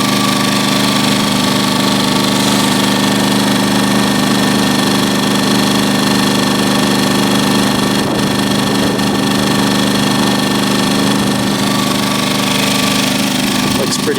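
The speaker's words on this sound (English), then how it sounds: "Here's the generator running" A Champion 2000 watt inverter generator runs steadily while charging a battery, a constant droning hum with a buzzing tonal whine, close and loud, holding an even pitch the whole time.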